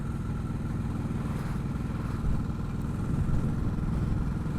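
A Ducati Hypermotard 950 motorcycle engine runs steadily at about 2000 rpm in fifth gear, a constant low rumble with a slight rise partway through, close and fairly loud.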